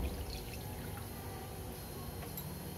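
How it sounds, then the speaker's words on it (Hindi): Water is poured into a hot masala gravy for a sev and tomato curry, giving a steady, continuous rushing splash with a faint sizzle underneath and no talking. "अब ग्रेवी, ये मसाला बिल्कुल रेडी हो गया है, अब इसके अंदर मैं पानी ऐड करूँगी।"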